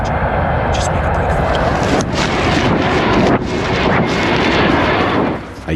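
American transport plane flying over, a loud, dense roaring rumble filling the whole stretch with wind-like noise, fading slightly at the very end.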